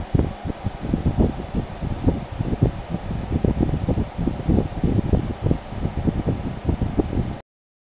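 A Danby 6000 BTU window air conditioner runs close by with a steady airy whir and a rough, fluttering low rumble that persists evenly throughout, with no voices.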